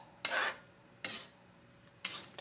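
A spoon scrapes three times through thick ginataang halo-halo in a cooking pot, making faint, evenly spaced stirring strokes about a second apart.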